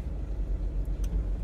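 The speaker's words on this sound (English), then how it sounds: "the car's waiting to reverse out" A car backs slowly out of a driveway, its engine giving a steady, low, muffled rumble at moderate distance with a faint brief hiss partway through.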